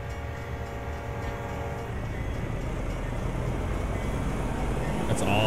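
A train passes in American Truck Simulator with a sound mod, its low rumble and clatter building steadily and growing louder toward the end, with a brief high horn-like tone near the finish.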